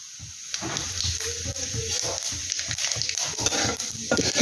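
Cumin seeds sizzle and crackle in hot oil in a kadai, a steady close frying hiss with faint scattered pops throughout.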